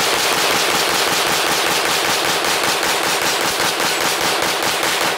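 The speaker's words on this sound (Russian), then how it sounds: "Я реально планировал выстрелить по 3 патрона, чтобы вы услышали разницу." Continuous rapid gunfire from a 50-round pistol magazine outdoors on a ranch, a dense, loud, unbroken stream of shots lasting several seconds with no pauses.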